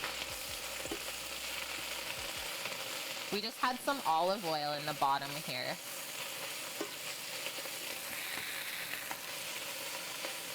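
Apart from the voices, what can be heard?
sizzling in olive oil in a pan, being stirred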